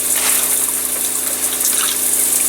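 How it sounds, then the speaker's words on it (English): Motorhome shower running at full pressure through a large rainfall-style head, giving a loud, steady broadband rush of water with a low pump hum underneath and no talk. "We can also switch from the big tropical rainstorm type shower to the other shower by using this knob here."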